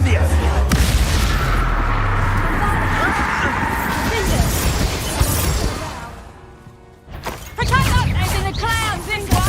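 Fire spell cast in the video game Hogwarts Legacy, a loud roaring burst and crackling blaze over low rumble, fading into quiet before game sounds and creature noises resume.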